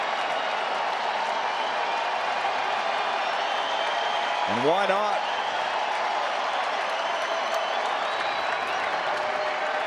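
Baseball crowd cheering and applauding at a Royals vs Angels game, a steady roar of noise filling the whole stretch with a brief rise midway, while an announcer talks over it.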